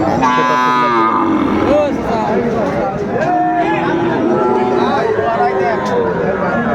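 Several cattle, including Sahiwal bulls and calves, moo in long, overlapping calls amid a busy crowd of people talking, loud and close, in a bustling outdoor livestock market in Faridpur, Bangladesh.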